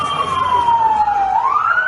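An ambulance siren wails loud and close at a hospital emergency department, its tone sliding steadily down then rising again over engine rumble.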